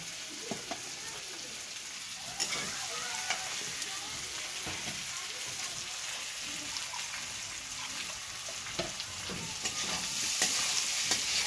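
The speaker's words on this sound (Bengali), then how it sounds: "এই যে মশলাটা কষানো হয়ে গেছে।" Spice masala with potatoes sautéing in a pan, a continuous close sizzle broken by repeated stirring scrapes and clatters, growing slightly louder near the end, with no speech.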